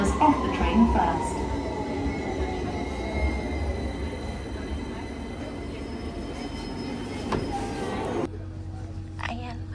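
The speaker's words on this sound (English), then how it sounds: "Please stand behind the yellow line as the train approaches." A London Underground train pulls into a station platform, a loud rumbling roar with squealing wheels and a falling whine that cuts off sharply near the end, leaving quieter platform ambience.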